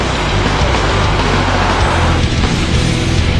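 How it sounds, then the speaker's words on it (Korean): A car at steady speed gives a loud, continuous broadband road and engine roar, close and unchanging, with no voices heard. "자동차도 등속으로 가고 있습니다."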